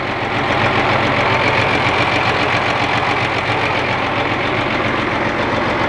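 A six-cylinder engine of a 5-cubic dump truck runs steadily, a loud, close, continuous rumble with an even knocking pulse, no talking.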